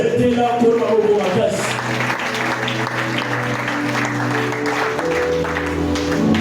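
A church congregation applauds in steady, sustained clapping beneath loud voices and musical tones that carry on throughout.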